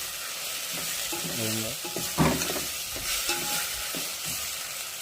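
Curry cooks in a pan while a spoon scrapes and stirs it, a continuous sizzle with clattering stirring strokes, close and clear, no talking.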